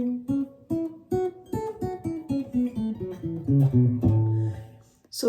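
Fingerstyle acoustic guitar plays a pattern, a steady run of plucked single notes over alternating bass notes that rise and fall, ending on a ringing low chord.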